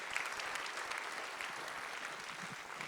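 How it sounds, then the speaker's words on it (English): Steady audience applause at a school-board introduction during a county middle school concert, a dense continuous wash of clapping from a large crowd, moderately distant and even throughout. "Keep the applause coming"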